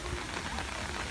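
Steady rain falls across Epcot's Italy pavilion, a dense, even hiss of drops on hard surfaces that stays constant throughout the short stretch with no talking.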